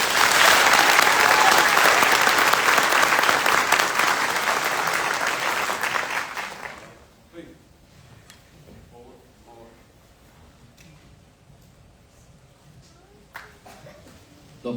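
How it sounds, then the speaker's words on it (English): An audience at a military drill sergeant graduation ceremony applauds the awardees with loud, dense clapping for about seven seconds before it fades, followed by quiet room noise and faint shuffling. "Please join me in a round of applause for the awardees."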